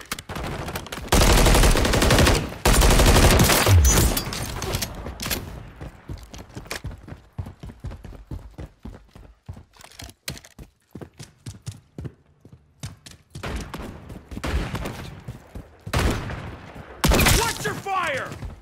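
Gunfire in Call of Duty Modern Warfare 3, with loud sustained automatic bursts at the start followed by scattered sharp single shots and short volleys near and far, and voices speaking between them.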